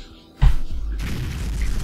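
TNT blowing up in the Ghost Rider video game, a sudden deep boom after a short quiet lead-in, followed by a sustained rumbling roar of debris that carries on to the end.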